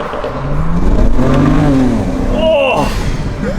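BMW 335i with N54 engine and Stage 1 tune revving as it accelerates, a loud, close engine note rising steadily in pitch across a few seconds, with a brief higher whine near the end.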